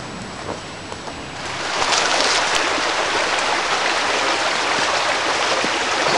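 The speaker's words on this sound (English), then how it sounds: "I'll show you the creek, okay?" Water in a forest creek flows in a steady broadband rush, growing a little louder after a couple of seconds and continuing alone without talk.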